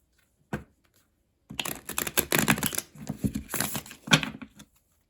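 Tarot cards riffled and shuffled by hand in quick crisp bursts, a short flick, a pause, then a longer run of dense papery clatter and a final snap, close and fairly quiet with no talking.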